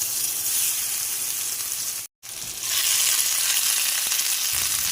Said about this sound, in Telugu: ఈ ముక్కలన్నీ కూడా గోల్డెన్ కలర్ వచ్చే వరకు వేయించుకుందామండి